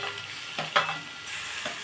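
Roasted ash gourd pieces going into a pan to fry, a brief soft sizzle with a single clack of the pieces landing, close and fairly quiet.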